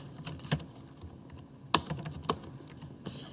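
Keys clatter on a computer keyboard during a math lesson on adding algebraic expressions, a handful of sharp clicks spread unevenly over a few seconds, close and fairly quiet, with no voice.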